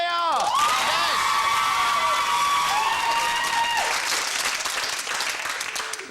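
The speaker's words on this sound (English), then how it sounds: "Round of applause for them." Studio audience of a 1997 television game show bursts into loud, sustained applause with cheering and shouts, holding steady under bright musical sting tones before gradually easing.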